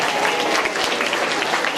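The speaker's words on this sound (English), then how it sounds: "Give her a round of applause" A school assembly audience applauds a child, a short burst of loud, dense clapping that holds steady from start to finish.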